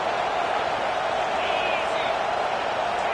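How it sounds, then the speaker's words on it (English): A football stadium crowd swells into a loud, steady roar as the home defense lines up on third down, a broad wash of noise with a commentator talking over it. "Decibels rising as the crowd gets behind this defense on 3rd down."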